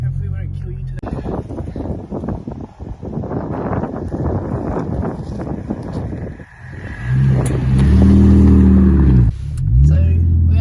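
A 2008 Holden VE Commodore with a swapped engine pulls away on a test drive, its engine and road noise rumbling under people talking, then a louder, sustained engine drone builds toward the end.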